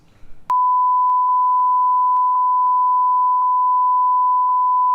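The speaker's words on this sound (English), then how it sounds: "I thought you were gonna put a beep over that." A loud, continuous steady beep tone cuts in abruptly after a brief murmur of voice and holds unbroken to the end.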